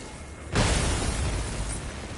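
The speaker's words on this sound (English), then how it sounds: "Oh, shoot! It exploded!" Explosion in God of War, a sudden loud blast half a second in that swells into a sustained roaring rumble with debris noise, close and heavy.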